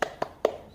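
Three sharp hand claps in a quick rhythm, evenly spaced and close by, as part of a 'tepuk semangat' clap chant in a primary school lesson.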